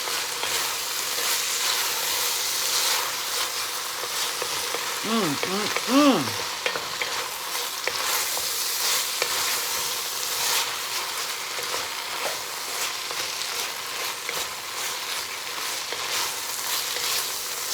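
Minced garlic fries in a pot, giving a loud continuous sizzle with scattered pops and a brief scrape of stirring partway through, close and with no talking over it.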